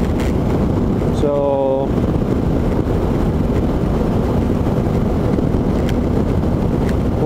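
Heavy, continuous wind buffeting roars over a microphone while riding a BMW F800GS motorcycle on a highway, loud and close, with a brief tonal whine partway through.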